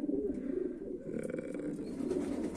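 A retired homing pigeon coos softly and repeatedly, low rolling calls in a steady rhythm, close by with no talking.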